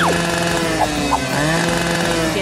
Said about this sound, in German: Hier werde ich eine echte Kettensäge gebrauchen.